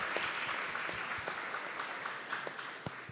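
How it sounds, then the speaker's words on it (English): Audience applause after a first startup pitch at a Christmas-edition pitch event, steady clapping from a small crowd for a few seconds, with no talking over it. "So big applause for him."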